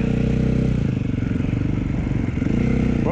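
A dirt bike engine runs steadily close by, a continuous loud throaty drone with some clattering and scraping, easing slightly mid-way and picking back up toward the end.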